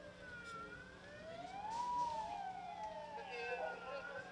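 A fire engine and an ambulance arrive at a disaster-response drill with a siren sweeping up and down at moderate distance, fairly faint under a steady background hum, while a voice talks over it.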